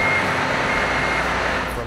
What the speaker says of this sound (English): it does give off an audible sound, three beeps